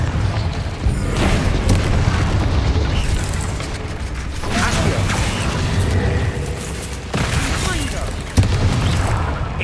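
Confringo fire-blast spells in the Hogwarts Legacy video game burst and boom repeatedly amid loud, dense combat effects, with a character's voice shouting spell names over the clash.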